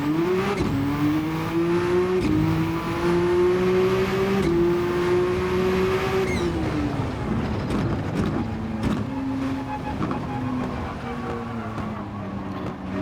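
A race car in a Nürburgring grand touring racing game slides sideways, its engine droning and shifting pitch through repeated gear changes while faint tire squeal and mechanical noise run underneath.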